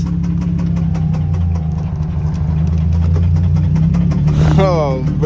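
Nissan G35 (V35 Skyline) engine running with a faulty motor, a steady low idle drone with a rhythmic ticking knock, loud and close, with a brief rising whistle near the end.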